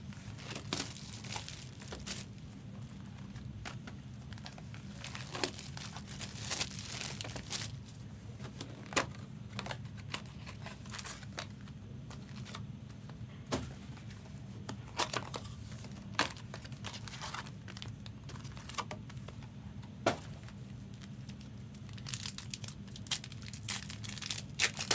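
Marvel trading card packs torn open by hand, the foil wrappers crinkling and crackling in repeated bursts of sharp rustles and snaps over about twenty-five seconds, close up with no talking.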